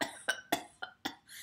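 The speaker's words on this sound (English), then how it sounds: "Baby Bird coughed" A cartoon baby bird coughs after kicking up a cloud of dust, five short sharp coughs in quick uneven succession, close and fairly soft, ending in a breathy exhale.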